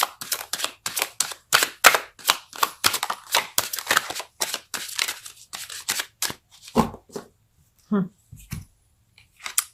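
Tarot cards being shuffled and pulled from a deck at a love reading, giving a fast run of crisp riffling snaps and slaps close by, followed by a few slower, separate card flicks and taps.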